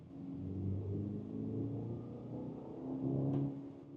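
A BMW X3 20 engine pulls steadily in sport mode, a smooth continuous drone with layered harmonics holding close and moderately loud for four seconds, swelling slightly near the end with no talking.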